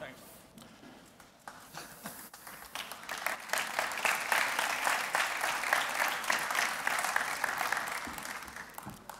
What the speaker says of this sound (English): Folks, would you please join me in a round of applause for Nicholas and the entire TCL Communication and BlackBerry Mobile team